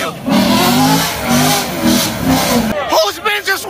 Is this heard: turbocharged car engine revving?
yes